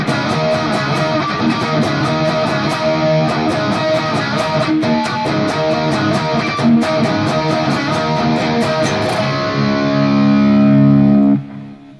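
Heavily distorted electric guitar playing a riff with palm-muted chugging, loud and steady throughout with no talk, ending in a sustained ringing chord before cutting off.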